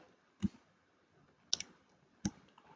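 Three sharp, quiet mouse clicks spaced about a second apart, made while working in Canva's QR code generator, with near silence between them.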